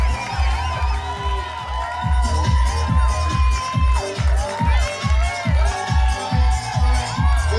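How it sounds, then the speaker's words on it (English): A crowd of parents and children at a school sports day cheers and shouts as runners cross the finish line, accompanied by steady, loud rhythmic thumping of music throughout. "Let's get cheer them up as they finish."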